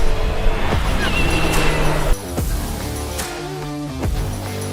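Racing car on a track at a motorsport event, a loud engine roar that swells then drops away as it passes, followed by lower rumbling engine noise.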